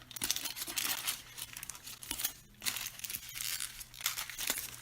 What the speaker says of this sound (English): we're going to take that foil and we're going to wrap that nail